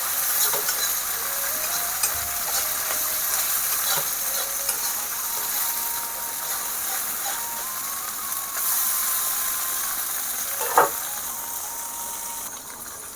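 Ground spices such as chilli, Kashmiri chilli and cumin going into hot oil in a pan with pointed gourd, a continuous soft sizzle and frying hiss with occasional scrapes of stirring and one brief sharp clink.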